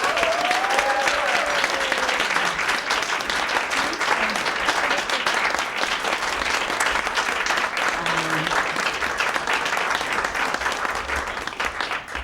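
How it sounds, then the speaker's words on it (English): Continuous audience applause at a live performance in a New York City venue, a dense, steady wash of clapping lasting throughout, with a brief cheer or voice near the start. "But let's make the biggest round of applause for Paul Katz."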